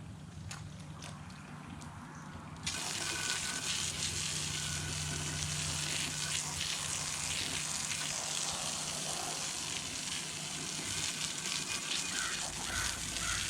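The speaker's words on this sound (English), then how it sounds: "let's hose these tires down, make them, and start cleaning them up." Water from a hose sprays steadily onto vehicle tires during cleanup, a loud broad hiss that starts abruptly after a couple of seconds and continues without a break.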